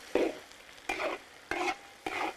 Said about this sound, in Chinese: 把鸡肉倒进来炒香